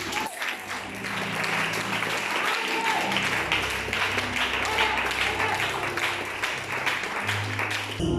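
A church congregation applauds for Jesus, a dense sustained wave of clapping filling the room, with voices talking and calling out beneath it.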